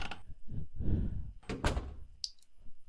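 A door in The Witch's House horror game opens with a couple of dull thunks and a sliding mechanical scrape, followed by a short bright click, heard close with no speech.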